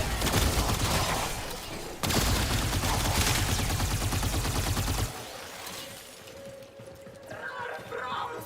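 Dense, continuous gunfire in the Warframe video game, loud and crowded for about five seconds, then dropping to a quieter, thinner stretch of scattered sounds.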